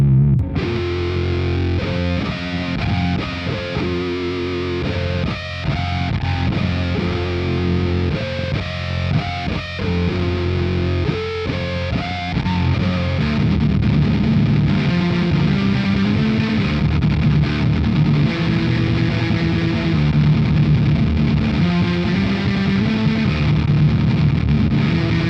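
Electric guitar played through a KHDK Annihilator II distortion pedal, with pinch harmonics in the playing; a heavy, saturated, continuous riff stays loud throughout with no speech.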